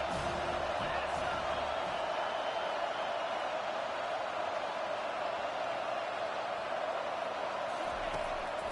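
Stadium crowd at a Louisville versus Penn State college football game roars steadily on third down, a loud sustained wash of cheering and noise filling the space with no break.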